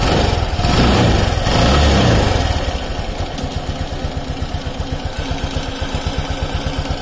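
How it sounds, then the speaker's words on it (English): Car engine idling after Liqui Moly MoS2 additive was added, a rapid steady mechanical chugging pulse close by, with an early louder whooshing swell before settling into an even, fairly quiet idle rhythm. "the engine is bit on quieter side now"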